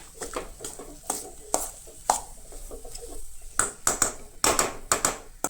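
Vada pav potato filling is stirred and mixed in a pan, with repeated spoon scrapes and clanks against the pan in an uneven rhythm, close and fairly loud, with a faint sizzle underneath.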